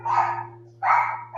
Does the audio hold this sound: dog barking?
yes